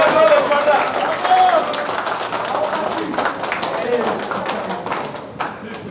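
A crowd applauds sparring fighters after the third round at a combat sports event, loud sustained clapping with some voices mixed in.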